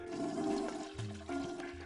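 A toilet flushes in one short, loud whoosh of rushing water that drops into a lower gurgle as the bowl drains, with no voices.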